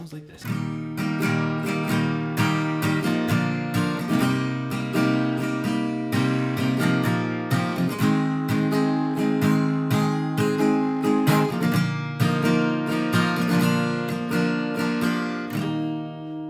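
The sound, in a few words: guitar playing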